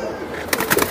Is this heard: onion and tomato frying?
no